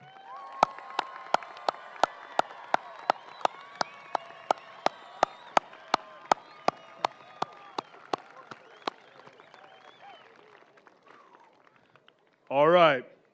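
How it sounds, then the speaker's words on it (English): Audience at a high school graduation ceremony claps together in a steady rhythm, loud, evenly spaced claps that slowly thin out and fade, ending with a brief burst of noise. "do we want to give him one more big round of applause?"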